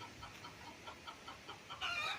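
Pet chickens at a farm house in Nagcarlan, Laguna cluck in a soft, rhythmic series of short calls, faint and slightly distant, with a brighter outdoor noise at the end.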